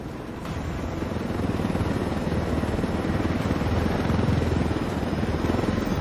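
A military helicopter in Ghost Recon Wildlands gives a steady rotor whirr and engine drone with a fast rhythmic pulse. It builds slightly, stays loud and close throughout, and no one speaks.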